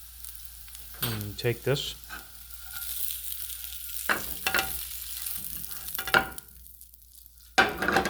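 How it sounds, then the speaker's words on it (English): Brussels sprouts sizzle steadily in a pan of olive oil with garlic, a constant close frying hiss with a few clinks and stirring sounds, and a voice speaks briefly over it. "I sauteed them with some olive oil, some garlic, salt, pepper, and boy, do you have a beautiful vegetable"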